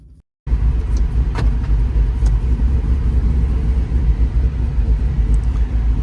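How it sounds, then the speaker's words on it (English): A 2024 GMC 1500 4x4 pickup with a swapped-in 6.6L engine, cam, headers and tune drives on a cold day. After a brief quiet start, a loud, steady, deep engine rumble runs throughout. "we're gonna go out for a drive in this thing right now, see how it does"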